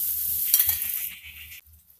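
Roasting besan (gram flour) for laddu sizzles and crackles in the pan after a splash of milk is added, a loud bright hiss settling quieter toward the end, with faint stirring and no voices.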